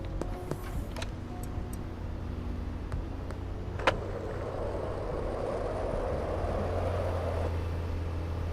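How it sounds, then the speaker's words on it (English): A car in a video game passes close by, its engine noise swelling and then fading against a steady background hum with a few faint ticks. "See that car almost hit me?"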